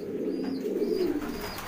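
Domestic pigeons coo softly in a loft, a low throaty burbling call rolling on continuously for a moment with faint chirps above.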